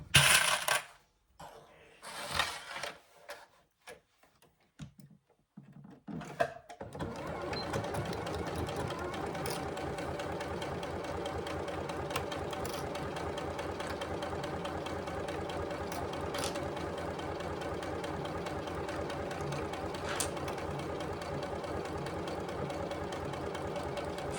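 A sewing machine stitches along the top edge of a Scarlett Hobo bag at a quarter-inch seam allowance, a steady close whirring run that begins after a few brief handling clicks and knocks.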